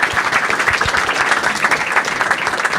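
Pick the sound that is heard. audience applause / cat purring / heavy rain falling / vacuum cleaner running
audience applause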